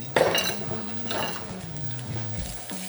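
A wooden spoon works chopped anchovies and garlic in a pan for pesce puttanesca. A sharp knock opens a run of close scraping and mashing strokes over a low hum, with no talking.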